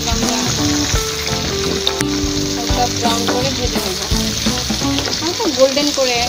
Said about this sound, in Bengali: কড়াইতে মাছ দিতে গেলে অবশ্য অনেক গা ছিটকে তেল আছে, তেল ছিটকে গায়ে পড়ে যায়